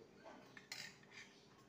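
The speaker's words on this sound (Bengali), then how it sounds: "এবার ঢাকা দিয়ে" A lid goes onto a kadai of brinjal dressed with raw mustard oil and green chillies, set to steam: one faint, brief metallic clink and rattle in a quiet kitchen.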